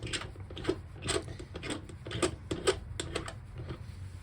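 End cap of a Haotian 1500W 3-in-1 laser cleaner head being unscrewed by hand, a run of close, quiet ticking and scraping clicks from the threads, irregular and soft.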